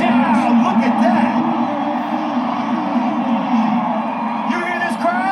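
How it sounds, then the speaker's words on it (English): Large crowd roaring and cheering at the 2015 Drake Relays during the 4x800 race as Iowa's Hawkeyes surge, a loud sustained wash of whoops and shouts, with announcer commentary running over it throughout. "You hear this crowd?"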